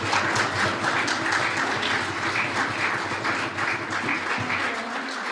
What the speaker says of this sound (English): You can give them a round of applause even now.